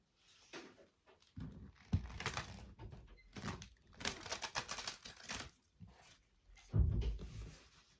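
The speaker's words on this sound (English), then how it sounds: "It's kind of funny that I'm shuffling now." Tarot cards being shuffled during a pick-a-pile reading, with bursts of riffling and soft tapping separated by pauses, close and fairly quiet, with no talk.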